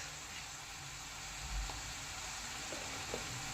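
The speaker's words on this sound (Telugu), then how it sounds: "మన ఆనియన్స్ బాగా వేగుతున్నాయి కదా" Onions frying in a covered pan for a dhaba-style egg gravy, giving a soft, steady sizzle, faint and even throughout, with no talking.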